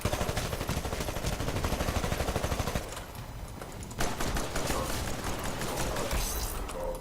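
Gunfire from the Hammond P2011 pistol in the game Frontier's Edge: a dense, rapid stream of shots that rattles on for several seconds, eases briefly, then resumes just as fast and loud.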